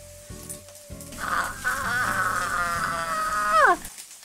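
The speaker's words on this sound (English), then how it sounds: "And the rice is still cooking, I hear it!" Special fried rice sizzling in a hot pan, a steady bright hiss rising and holding for a few seconds amid some background tones, then cutting off.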